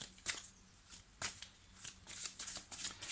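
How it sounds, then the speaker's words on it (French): Petit Lenormand cards being shuffled and a final card drawn from the deck, heard as several crisp papery riffles and slaps close up, alone without speech. "Donc je vais juste sortir une dernière carte pour l'examen."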